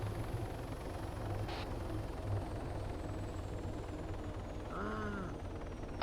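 A helicopter drones steadily and loudly for several seconds as a constant rotor and engine wash, with no speech over it.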